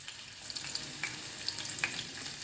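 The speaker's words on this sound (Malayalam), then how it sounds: "ഇഞ്ചിയൊക്കെ മൂത്ത് വന്നിട്ടുണ്ട്" Soft, steady sizzling of ginger frying in hot oil, with faint crackles and a few light pops, no voices.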